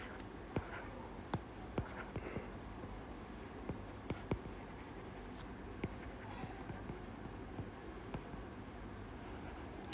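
Pen or pencil writing an equation by hand on paper during a quantum mechanics lecture, a steady scratchy scrawl punctuated by sharp taps as strokes and dots land, close and fairly quiet, with no talking.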